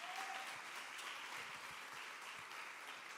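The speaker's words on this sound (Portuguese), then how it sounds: "Você pode dar um aplauso ao Senhor?" A church congregation claps steadily through a morning worship service, a dense, even wash of applause with no speech over it.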